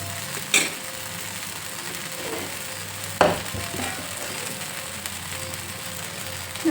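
Rava dosa batter sizzles in oil on a hot pan with a steady frying hiss, and two sharp utensil taps cut through it, close by with no talk.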